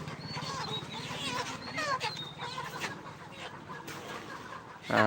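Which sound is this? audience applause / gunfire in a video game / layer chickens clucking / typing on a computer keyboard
layer chickens clucking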